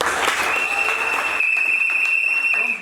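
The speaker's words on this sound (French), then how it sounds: "nous vous demandons d'acclamer fortement pour Naba." An audience at a certificate award ceremony for learners applauds loudly and continuously, with a sustained crowd clatter and a steady high whistle or feedback tone over it.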